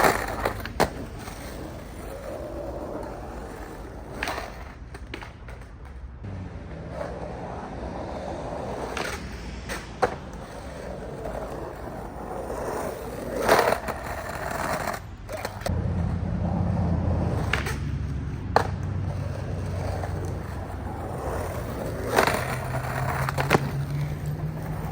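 Skateboard wheels rolling and grinding along a skate spot, with rough scraping bursts and board clatter at irregular intervals, fairly close, over steady outdoor rumble.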